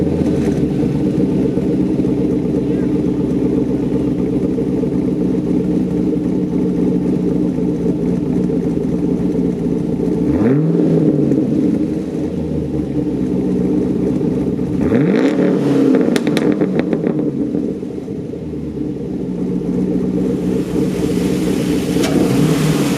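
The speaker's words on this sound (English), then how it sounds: "You can definitely hear the cam, and here's what it sounds like." A 2012 Chevrolet Caprice V8 fitted with an aftermarket cam and lifters idles with a steady, loud, lopey rumble, broken by two sharp throttle blips that rise and fall.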